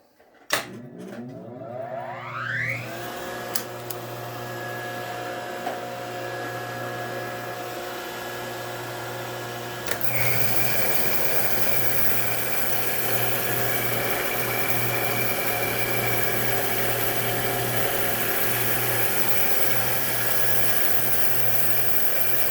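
Coil winding machine running steadily as it fills a bobbin while rewinding an original Fender Wide Range guitar pickup; a constant motor hum and whine sit close by, growing louder and fuller partway through, with no talk.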